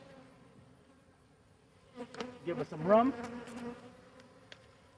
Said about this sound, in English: all these bees we have here are from all swarms